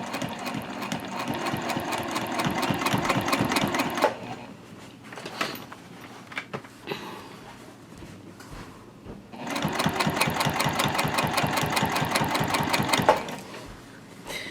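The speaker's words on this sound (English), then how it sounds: "I'm sewing on the gusset side of the bag right now" A sewing machine stitches the gusset side of a zip-top tote bag in two steady, rapid bursts. Between them is a quieter stretch with light handling noises.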